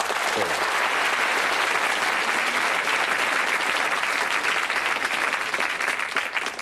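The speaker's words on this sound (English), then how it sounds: "Superb contestants. Give them a round of applause." A TV game show studio audience claps loudly and steadily for the contestants on the British show Bullseye, a dense, continuous roar of many hands that carries through with no speech over it.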